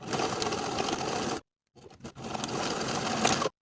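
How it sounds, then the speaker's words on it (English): A sewing machine stitches back and forth over the edges of elastic on a cropped jacket, running in two loud continuous bursts separated by a short pause. "Sew the edges of the elastic in place back and forth a couple times within the seam allowance to secure"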